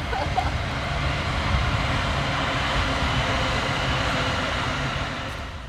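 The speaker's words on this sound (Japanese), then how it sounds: "あ、電車来た、電車" A passing train near a park with cherry blossoms and tulips gives off a steady, moderately distant rumble that holds evenly for several seconds, then begins to fade.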